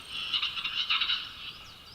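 A strange, rattling capercaillie call with rapid clicking and popping notes, alone in a quiet forest setting near the Watzmann.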